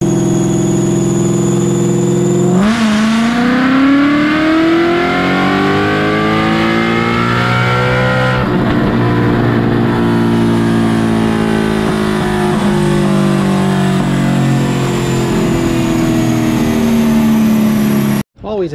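A Coyote-swapped Fox-body Ford Fairmont with added boost, on a pull where the belt slipped: a loud, close engine idles, then revs sharply and climbs steadily in pitch, holding a high, strained drone before cutting off abruptly.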